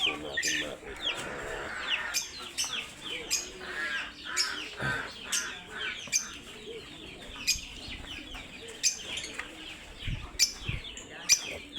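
Chickens and chicks on a farm cluck, peep and chirp throughout, with a rooster-like call and small birds mixed in, close and busy, while a voice talks at times underneath.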